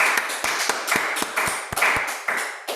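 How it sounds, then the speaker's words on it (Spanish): A congregation claps for the Lord at an Easter church service. The claps come in a brisk, fairly regular rhythm, close and distinct, over a bright wash of background noise. "Démosle un aplauso al Señor"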